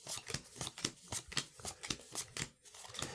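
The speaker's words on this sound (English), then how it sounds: "grab the deck, go ahead and give it a good shuffle" A deck of Goblin Grapple game cards is shuffled close up, a quick run of about a dozen crisp riffling bursts in an otherwise quiet room.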